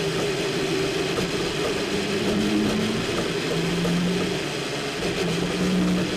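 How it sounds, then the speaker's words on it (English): A Toyota race car engine heard onboard at the 2017 WEC 6 Hours of Nürburgring, running roughly at low revs as it struggles to get going, a steady mechanical drone with wavering tones throughout. "He either can't get it in gear, or it was having trouble with the internal combustion engine."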